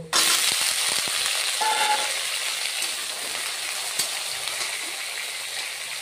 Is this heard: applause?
no